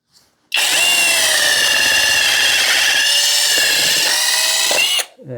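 A cordless impact wrench fitted with a drill bit whirs loudly as it bores into hard wood, running steadily for about four seconds before stopping abruptly.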